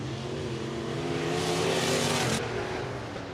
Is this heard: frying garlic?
no